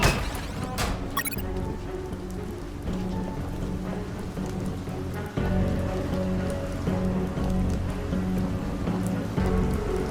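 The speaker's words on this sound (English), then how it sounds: "Under the rain and the biting cold" Steady rain falling in the video game UnMetal, a dense hiss of drops on a surface that continues without a break under layered game music, with a brief crackling burst near the start.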